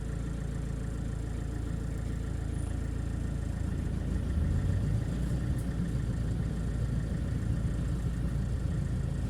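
A Mercedes Vito 639, just back together after a bearing replacement, runs in fifth gear with its wheels raised, giving a steady low engine and drivetrain drone that swells slightly midway, close up with no talking.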